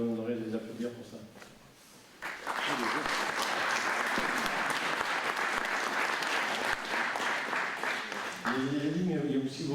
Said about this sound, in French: Donc je vous demanderai de les applaudir pour ça.